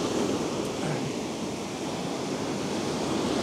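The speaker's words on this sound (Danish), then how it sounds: "Og nu er der altså nogle ret heftige bølger" Rough, heavy ocean waves at sea, a loud continuous roar of surf and wash with wind buffeting the microphone, no talking.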